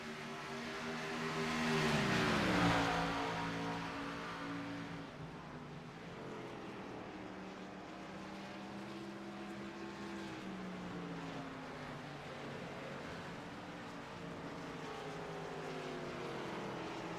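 Xfinity Series stock cars racing at Watkins Glen, a steady engine roar with shifting pitch as cars pass, swelling briefly near the start then holding a continuous moderate drone.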